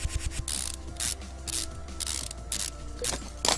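Repeated ratchet clicks in Car Mechanic Simulator 2015 as bolts come off a rear drive axle, several quick bursts of mechanical ticking in an irregular rhythm, close and fairly loud with no talk.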